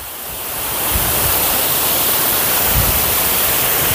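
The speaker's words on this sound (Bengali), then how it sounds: "কত ওপর থেকে পড়ছে দেখুন জলটা" Waterfall near Sonada in the Darjeeling hills, water falling from a height with a steady, loud, broadband rushing roar that swells in the first second and then holds constant.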